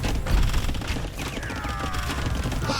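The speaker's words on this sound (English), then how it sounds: "Got 2 trebs firing on his castle." Siege fire in Age of Empires 2 as two trebuchets pound a castle in a Malay versus Britons match on the Hideout map, a dense, continuous rumble of impacts and crashes with a faint whistling sweep partway through.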